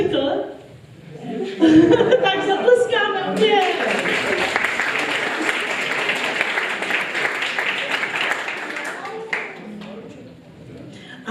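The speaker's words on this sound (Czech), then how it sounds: "Tak zatleskáme." A children's audience in a garden setting bursts into clapping mixed with chuckles and laughter, loud at first and then settling into steady sustained applause before fading; talk is heard at the start.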